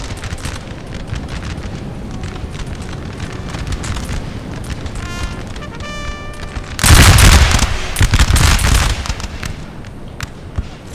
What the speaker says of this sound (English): Most of my shots are hitting the hill in front of the Ottomans